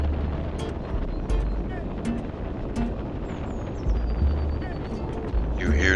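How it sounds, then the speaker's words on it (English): Wind rushes and buffets past a moving motorcycle, a constant low roar with gusty rumbling swells and faint whistling tones, close and loud throughout with no talk. "You hear the sound of the wind for hours."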